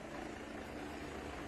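A low-flying police helicopter over a crowd of demonstrators gives a constant, dense rotor roar that stays steady and unbroken throughout.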